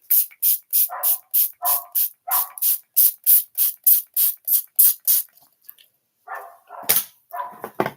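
Rapid, repeated short hissing sprays from a pump bottle of makeup setting spray in a steady rhythm, over a dozen bursts, with a few more after a brief pause.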